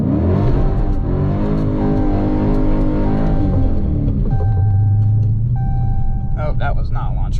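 Dodge Challenger Scat Pack with a six-speed manual revving hard for a launch on wet pavement, a loud sustained engine roar that swells and shifts pitch, close up inside the car.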